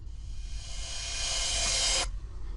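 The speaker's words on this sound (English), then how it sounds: "it's a nice rising effect" A reversed cymbal sample swells from quiet hiss into a bright, rising wash, then stops abruptly just after two seconds, leaving a faint low rumble; no voices.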